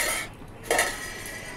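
Whole cumin, bay leaves, dry red chillies and chopped ginger tip into hot oil in a wok, giving a short close clatter and a brief burst of crackle under a steady background hiss.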